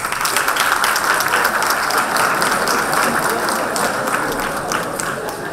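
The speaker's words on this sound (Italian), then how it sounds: "Tutti devono applaudire, mi raccomando, cominciamo dalla platea" A theatre audience at a regional science-communication competition final in Trieste claps on cue for a technical institute, giving a steady, even wash of applause throughout without cheers.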